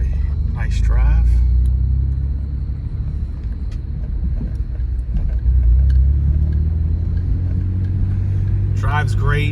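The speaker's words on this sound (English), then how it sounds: "We will take it for a nice drive." A Mitsubishi 3000GT SL VR-4 twin turbo with 53,000 miles drives along, its engine and road noise a steady low rumble throughout, with a brief voice at the start and end.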